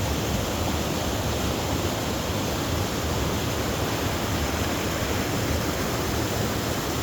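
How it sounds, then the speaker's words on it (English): Cypress Falls pours down as a waterfall with flowing water, a loud, continuous broadband rush that stays steady and close, with no voices or other sounds breaking through. "I miss the sound of the water so much."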